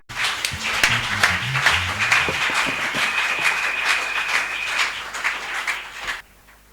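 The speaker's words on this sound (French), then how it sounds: "nous acclamons très fort pour le Seigneur" A church congregation at a Sunday service claps and cheers loudly for the Lord, a dense, sustained burst of applause with shouts that stops abruptly at the end.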